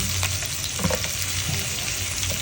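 Onions frying in a pan, a steady close sizzle with occasional stirring scrapes running throughout, no voices.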